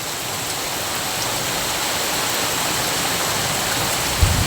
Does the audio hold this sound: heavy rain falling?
yes